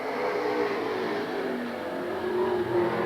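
Race cars at the Robinson Rancheria oval in the 2002 Tri-State Challenge Series roar together in a steady, dense engine drone from the pack, with no voices over it.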